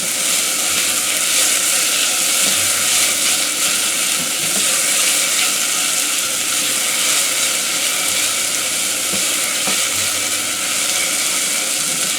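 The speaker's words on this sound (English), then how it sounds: "Now at this point we're just sweating the onions." Onions sweating in a pan for a tomato mother sauce give a steady, loud, broadband sizzle with a constant hiss and faint stirring, with no talk.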